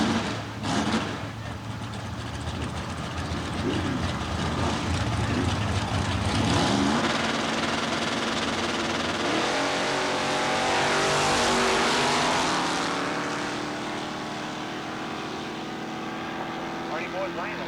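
Drag racing cars at Southeastern Dragway in 1990 roar down the strip at a weekly race, a loud sustained engine blare that swells and fades with distance, with an announcer talking over it.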